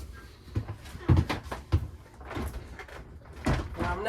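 Shower door in a motorhome washroom being opened and shut, giving a few close knocks and thuds of the door against its frame with faint rattling between, fairly quiet, no talking.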